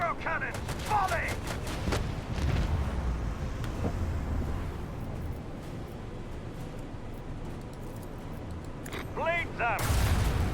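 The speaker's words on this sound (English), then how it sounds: "Macro cannon! Volley!" Macro cannons fire a volley in the video game Rogue Trader, a rolling burst of heavy booming shots and rumble, with a voice shouting over the barrage.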